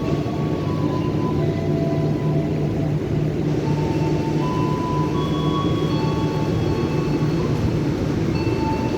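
A passenger train, the Parahyangan, rumbles steadily straight through Cikarang station in Indonesia for several seconds, a continuous low roar with faint tonal whines above it.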